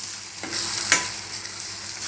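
Chili powder being stirred into egg curry with onion pieces in a sizzling pan, a steady hiss with one sharp spoon scrape against the pan midway.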